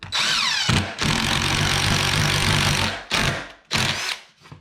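A handheld drill with a 1.5-inch spade bit bores into wood while a tub deck is being built. The motor whirs loud and close in one long run, then in two short bursts with brief pauses between.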